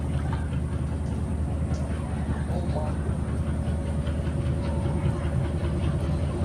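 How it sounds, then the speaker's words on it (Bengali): Passenger train heading toward Mongla passing nearby amid floodwater, a steady low rumble with rhythmic wheel clatter throughout, while people talk over it outdoors. "ওই যে চলে আইছে প্রায়"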